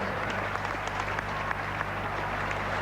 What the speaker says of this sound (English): Huge applause from the crowd nearby.